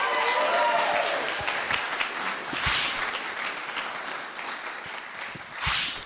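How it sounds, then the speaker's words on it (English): An audience at a sales talk on cold calling gives a speaker a round of applause, with dense, fairly loud clapping and a few cheers that continue steadily throughout. "Round of applause, please."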